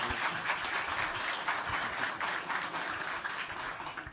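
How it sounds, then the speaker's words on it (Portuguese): Applause for Wagner at a Kotlin meetup talk: a steady wash of many hands clapping, fairly distant in a room, continuing evenly throughout with no voices over it. "Um salve de palmas aí pro Wagner, por favor."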